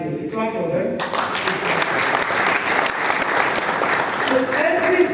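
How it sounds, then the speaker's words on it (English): Audience applause fills a large hall at a business summit in Abuja, dense steady clapping swelling after a brief opening of voices and continuing loud and unbroken throughout. "Clap for them."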